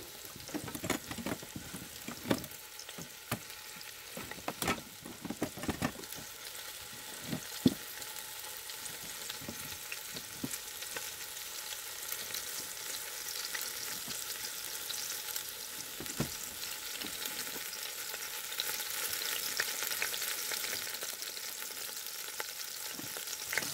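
Meat for a Mississippi pot roast browns in the pot of an Instant Pot, a steady close sizzle and spitting crackle running throughout, with a few clinks and scrapes near the start.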